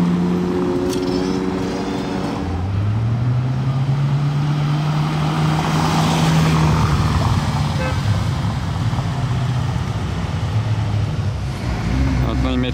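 Ferrari cars such as a Daytona SP3 and 812 Competizione pass by at a rally, a steady engine roar with rising and falling tones sustained throughout, mixed with crowd noise and people talking nearby.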